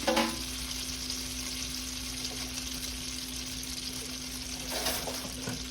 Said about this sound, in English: We're gonna take a little mayo. Put it right there, apply it to our skillet.